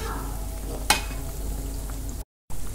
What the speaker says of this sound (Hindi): अच्छा गोल्डन कलर आने तक अब हम इसे फ्राई करेंगे।